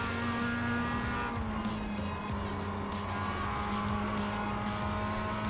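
A race car in the iRacing sim, its engine a continuous loud droning roar with steady tonal hum, joined by tire noise as it runs slightly off track.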